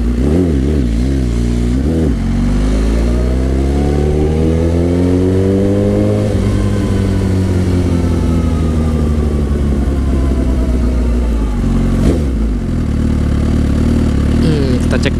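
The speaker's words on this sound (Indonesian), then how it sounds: "Suzuki deh emang suaranya tuh serak-serak basah" A Suzuki GSX-R1000 sport motorcycle engine revs up repeatedly, climbing to a sustained raspy high pitch before dropping back to idle, then blipping again, loud and close.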